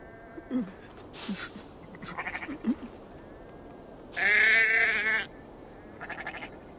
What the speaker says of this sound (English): Feed the sheep and see what comes out.